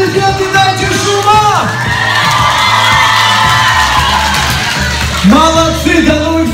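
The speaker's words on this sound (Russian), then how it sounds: "А теперь ваши аплодисменты, дайте шума." A loud crowd at a student talent show cheers, whoops and shouts continuously, with excited high-pitched yells rising over the din and a few voices calling out near the end.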